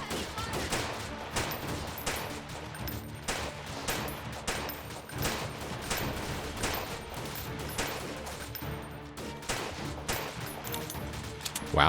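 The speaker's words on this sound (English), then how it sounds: "we're actually getting a pretty nice amount of kills with this pistol here" Pistol gunfire in a shooter video game, a rapid, irregular string of sharp shots close by throughout, with brief pauses between bursts and faint background game sounds.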